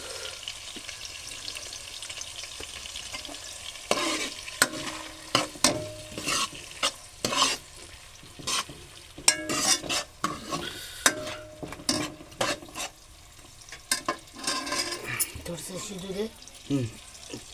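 Chopped onion frying in a pan is stirred in repeated sharp scrapes and clatters over a steady sizzle, the strokes coming in irregular bursts close to the pan.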